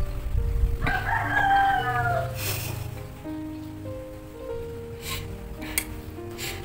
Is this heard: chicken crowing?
yes